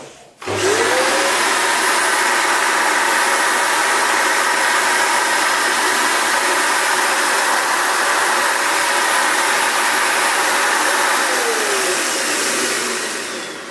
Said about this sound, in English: It's super important that this actually spins when you turn this vacuum on.